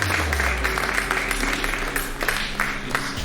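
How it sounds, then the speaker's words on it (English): Audience at a cricket league team launch event claps in a loud, dense burst of applause with sharp individual claps over a low hum, continuing throughout. "please give him a great applause to Jameer."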